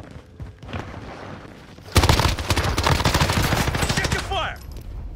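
Rapid automatic gunfire fills a video game firefight, a loud, dense burst of overlapping shots that erupts suddenly after quieter distant popping, with brief voices under the gunfire.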